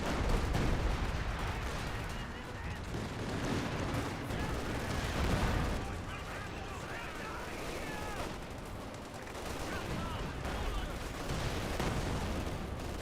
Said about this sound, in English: It's an artillery piece that can fire from long distance.